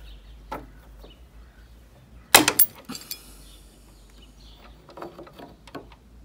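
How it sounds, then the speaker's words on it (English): A shed padlock is forced apart with two wrenches pressed against each other inside the shackle, giving a sudden sharp metallic snap and rattle followed by a few quieter clinks and handling sounds. "Put two wrenches like this inside of a shaft and press them against each other."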